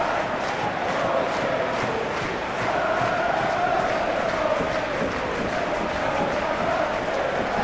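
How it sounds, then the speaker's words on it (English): A large video game football stadium crowd roars and chants continuously, a dense wall of voices that swells slightly and stays loud throughout. "crowd renditions of their songs from either end"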